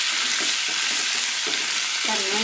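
Capsicum and onion sauté in a pan for a capsicum-onion thuvaiyal, producing a loud, continuous close sizzle with faint stirring scrapes underneath and no talking.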